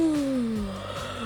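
A Fortnite doze dab emote voiced for a female skin: a single high, sliding vocal tone, clear and close, that starts bright and drifts downward over about a second, with no talk.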